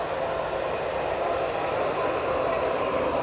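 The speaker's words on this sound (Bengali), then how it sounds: "এই দেখুন ট্রেন যাচ্ছে।" A passing train rumbles steadily in the open air, a continuous broad roar of wheels and wagons held at even loudness throughout, with no voices.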